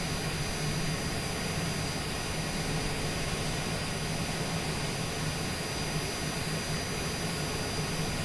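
Cessna Citation Longitude business jet on its takeoff roll, heard from inside the cabin as a steady, loud broadband jet roar with a constant low hum and high whine lasting throughout, no talking.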